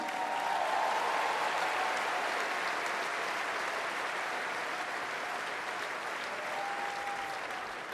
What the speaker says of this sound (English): A big round of applause again for Stef and Katrien.